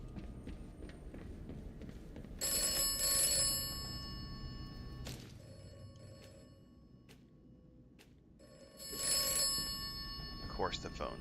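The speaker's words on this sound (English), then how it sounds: "Of course the phone's ringing." A telephone rings in repeated double bursts in the Atomfall video game, the bright bell tones loud and close with pauses of quiet ambience between them, and a brief clatter at the end.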